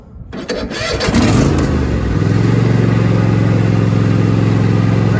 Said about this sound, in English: to start the tractor all the way up on choke, I usually just hold it there and then turn the key to crank